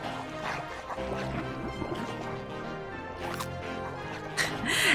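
A piranha bites into a tree trunk in the video game I Am Fish, giving a series of crunchy, splashy chomps and cracks that repeat irregularly and grow louder toward the end.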